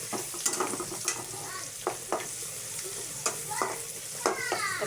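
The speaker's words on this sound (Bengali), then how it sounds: "এখন আমি পেঁয়াজগুলো নেড়ে চেড়ে নিচ্ছি, যাতে প্যানের মধ্যে পেঁয়াজগুলো না লেগে যায়" Chopped onions fry in a pan while being stirred, with a steady sizzle broken by regular scraping strokes of the spoon, close and fairly quiet.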